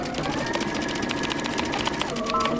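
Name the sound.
sewing machine stitching a 5/8 inch seam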